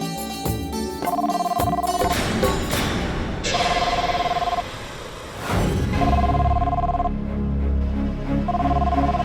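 A telephone rings in repeated short bursts over background music and scattered thumps.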